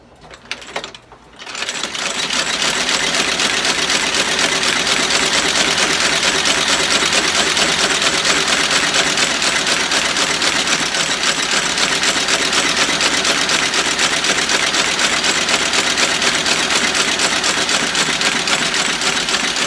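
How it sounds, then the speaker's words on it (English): After a quiet start, an outsole stitcher machine starts up and runs steadily, a loud, rapid mechanical clatter as it stitches the welt onto a Tony Lama boot during restoration. "this is an outsole stitcher. It stitches from the outside."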